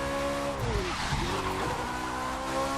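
Engine roar and tire screech of a stock McLaren supercar skidding and rolling over in the racing game The Crew 2, loud and continuous with sliding pitch sweeps as the car loses grip.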